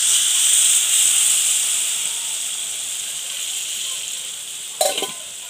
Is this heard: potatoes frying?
yes